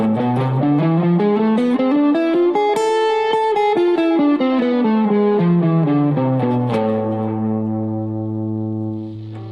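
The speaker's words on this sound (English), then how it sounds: "A harmonic minor scale looks and sounds like this." Distorted electric guitar runs an A harmonic minor scale up and back down in steady, evenly spaced notes, then holds a sustained low note that fades slightly at the end.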